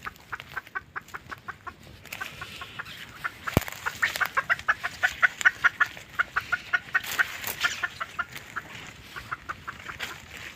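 Hens clucking in a repeated, fairly even rhythm of short calls with a few louder squawks, close by in a farmyard, moderately quiet and without talk.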